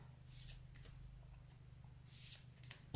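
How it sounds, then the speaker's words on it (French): Tarot cards shuffled and cut by hand, a quiet close riffle of soft card flutters and taps, with a couple of brighter slaps near the end. "Une coupe suivie d'un tirage en ligne."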